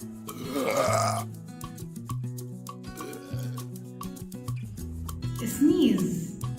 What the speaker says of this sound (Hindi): बर्प इसका मीनिंग है डकार. इसको हम बेल्च भी कहते हैं.